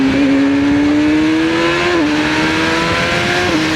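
A Yamaha R6 sport bike with a quick shifter screams under hard acceleration, its loud engine note climbing steadily and dipping briefly at two rapid upshifts.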